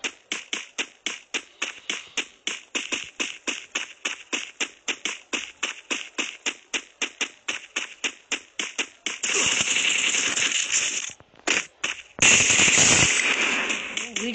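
A MAG-7 shotgun fires rapidly in a video game, a long run of sharp, evenly spaced blasts followed by denser, continuous bursts of gunfire near the end.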